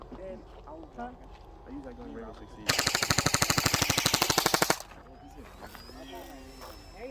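Rapid bursts of airsoft gunfire aimed at a 3D printed RC Sportster plane, a loud, fast, evenly spaced string of shots lasting about two seconds mid-clip, with people talking outdoors before and after.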